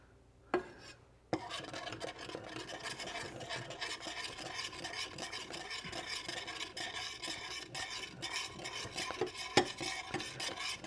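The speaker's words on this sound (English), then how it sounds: "Now we're going to stir that real good. Get that mixed in there. Get this cayenne pepper all mixed up in there." A utensil stirring and scraping steadily through a beer brat cheese sauce with cayenne pepper mixed in, a close, continuous rasping rhythm with a faint sizzle and no talking.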